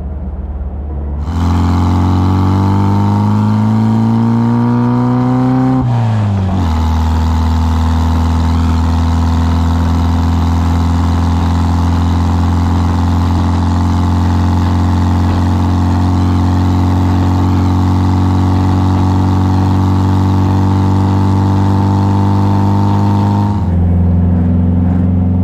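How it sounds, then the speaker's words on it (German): A 1957 Porsche 356 Speedster with a tuned, roughly 100 hp engine revs loud and continuous, first climbing in pitch, then dipping briefly before holding a steady high-revving drone while driving uphill. "Ganz agiler Motor, dreht bis 5000 Umdrehungen, geht er auch so hoch."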